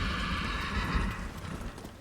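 A horse in the video game Ghost of Tsushima gives a whinny over a steady clip-clop of hooves, heard close and moderately loud, with game ambience beneath and no talking.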